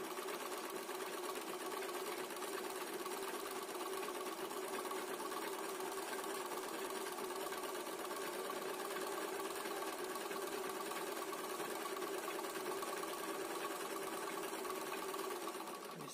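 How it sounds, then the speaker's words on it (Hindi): A three-in-one sewing machine stitching cloth, running at a fast, even whirring hum with a constant mechanical chatter, close and unbroken for the whole stretch, with no talk over it. "मशीन को चलाएंगे"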